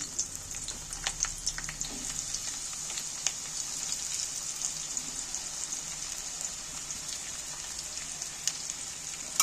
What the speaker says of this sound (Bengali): তেল গরম হয়ে গেছে এবার কাটা পেঁয়াজগুলো আমি তেলের মধ্যে তুলে দিচ্ছি